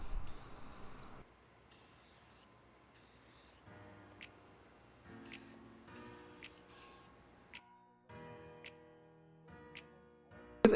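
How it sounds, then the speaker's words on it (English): Rust-Oleum matte lacquer-based clear coat sprayed from an aerosol can in several short hissing bursts, with quiet clicks and ticks in the gaps between sprays. "I gave them a couple of coats of a matte finish lacquer-based clear coat from Rust-Oleum"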